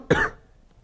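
A single sharp, close cough bursts out and fades quickly into silence.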